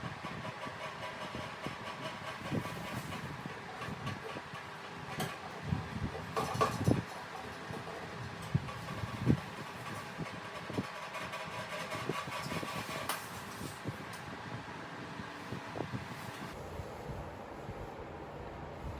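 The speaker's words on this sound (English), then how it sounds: "Okay, the Philips has a rattle problem apparently." A Philips ceiling fan with a rattle fault runs with a faint, uneven mechanical hum broken by irregular knocks and rattles, loudest around the middle.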